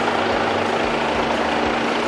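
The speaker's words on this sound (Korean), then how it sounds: "엔진 소리 일정하고 좋습니다." A Volkswagen Tiguan 2.0 TDI diesel engine idles nearby with its engine bay open, a steady, even, low clattering rumble that continues throughout.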